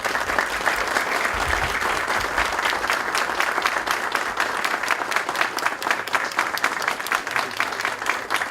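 Sustained, even applause from an audience at a construction industry awards ceremony honoring a medal recipient, a thick steady wash of many hands clapping throughout without letting up.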